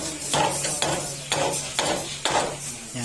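A rubber mallet knocks on the engine block crankcase of a Honda ADV150 scooter, five dull, evenly spaced taps about half a second apart, close and fairly loud, with no talking.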